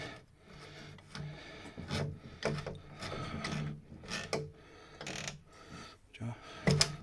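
A fitting being loosened on a Geberit Setaplano frame, giving a series of faint mechanical clicks and ratcheting creaks in an irregular rhythm.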